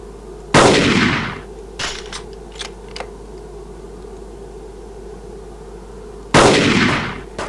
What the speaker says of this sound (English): It only takes 2 shots with the old sniper rifle to take it down.